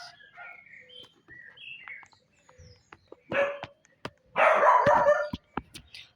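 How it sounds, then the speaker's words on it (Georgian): A dog barks repeatedly nearby in short bursts, a few sharp single barks and then a longer loud run, with birds chirping in the quiet gaps. "ჩემი ძაღლი იყეფება."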